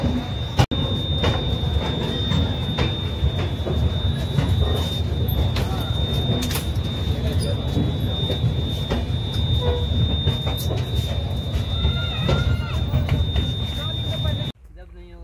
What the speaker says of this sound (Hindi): तो हमारी ट्रेन खुल चुकी है पटना जंक्शन से।